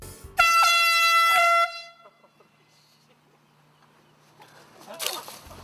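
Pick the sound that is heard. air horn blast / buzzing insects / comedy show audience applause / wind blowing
air horn blast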